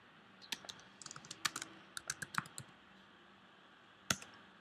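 Quiet, close clicking from a computer keyboard during Android coding: bursts of rapid keystrokes, a pause, then one sharper final tap.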